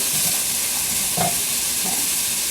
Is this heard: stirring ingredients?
yes